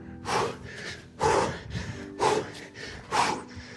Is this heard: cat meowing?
no